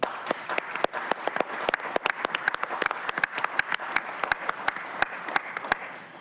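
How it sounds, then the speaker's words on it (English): Applause at a city council work session, a modest group clapping with distinct individual claps audible as sharp, irregular snaps over a light wash, steady throughout about six seconds. "I just wanted for us to give them a round of applause"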